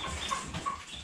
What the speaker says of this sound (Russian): Вот петух сидит.